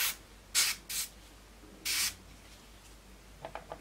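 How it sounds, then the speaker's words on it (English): Short bursts of aerosol primer sprayed onto parts of an Airfix 1/72 McDonnell Douglas Phantom FG1 model kit: three distinct hissing blasts, close and fairly quiet, followed by faint light tapping and handling noises. "All we're doing again is spraying it up nicely,"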